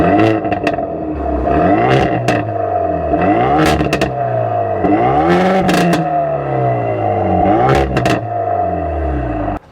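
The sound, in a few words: Hyundai Veloster N exhaust revving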